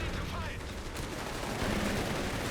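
Heavy machine gun fire in the video game Company of Heroes 3, a dense continuous roar of rapid shots and battle noise throughout, loud and close.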